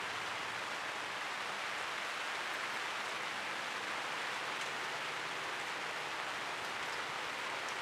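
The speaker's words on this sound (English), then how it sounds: "And here comes the rain again." Steady rain falls outdoors in a dense, even hiss that holds at a constant level throughout, with no voices over it.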